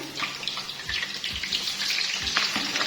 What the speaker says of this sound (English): go ahead and fry our potatoes. Add all the potatoes, they're all covered, and fry them.